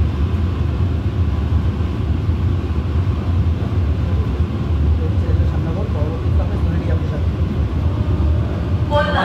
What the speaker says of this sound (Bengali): একদম নির্ধারিত সময়ে শ্যামনগর স্টেশন থেকে আমাদের ট্রেন ছেড়ে দিয়েছে।